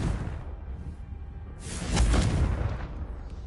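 Confringo fire spell cast in the Hogwarts Legacy video game on PS5: a low rumbling bed, then a sudden whooshing burst that swells into a loud, deep blast midway before tailing off.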